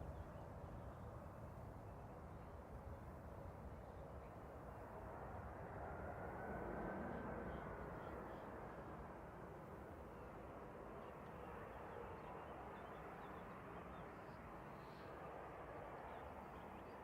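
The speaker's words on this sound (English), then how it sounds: "Just landing parallel is Eurowings coming in from Dusseldorf, A320 Classic." A Eurowings Airbus A320 Classic from Dusseldorf landing at Manchester Airport, a faint, distant, continuous broadband jet rumble that swells gently mid-way and then fades.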